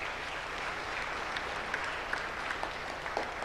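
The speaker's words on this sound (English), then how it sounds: "We applaud." Audience applauding at the Huduma Ombudsman Award ceremony; a broad, even wash of many hands clapping with a few sharper claps standing out, sustained and moderately distant.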